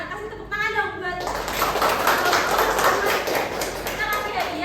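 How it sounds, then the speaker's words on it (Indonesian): A group of children clapping their hands together in a sustained burst of applause at a school nutrition outreach session, loud and close, with children's voices chattering throughout. "Kasih tepuk tangan dong"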